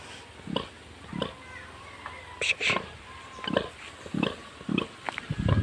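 Several short, low grunts from a pig lying down on a farm come in bursts across the clip, with faint murmuring and farmyard background noise between them.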